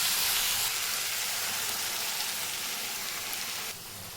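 Ground spice paste goes into a pan of boiled vegetables, setting off a loud, steady sizzle and hiss that runs throughout and eases slightly near the end.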